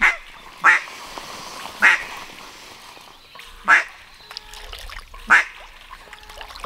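Khaki Campbell ducks quacking outdoors, five loud, separate quacks spaced a second or two apart, close by and alone with faint background noise.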